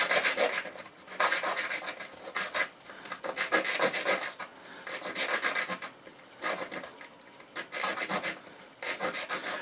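Hands rub the tough outer coating of a tree seed, giving repeated dry rasping strokes in bursts with short pauses, close and fairly loud with no talk.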